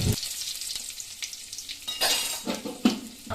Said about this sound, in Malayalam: ഇനി ഇതിലേക്ക് ശകലം കടുക് ഇട്ട് കൊടുത്താൽ മതി.